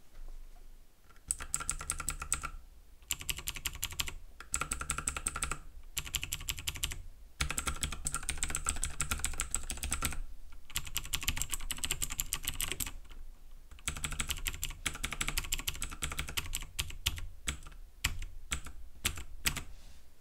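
Rapid typing on a budget KLIM Domination mechanical keyboard, a dense, close clatter of keystrokes running in steady bursts separated by several short pauses, with no voices.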